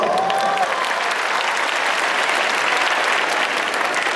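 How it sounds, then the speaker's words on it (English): Loud, dense applause from a crowd at the 2017 Global Youth Summit, continuous and even from start to finish, with a brief whistle at the beginning. "give them a round of applause"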